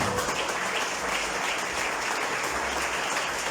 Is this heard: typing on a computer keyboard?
no